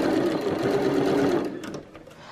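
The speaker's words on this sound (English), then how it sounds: "We're going to sew this down" Sewing machine stitching bias tape onto a Christmas tree skirt, a close, steady whirring run of rapid needle strokes lasting over a second before slowing and stopping.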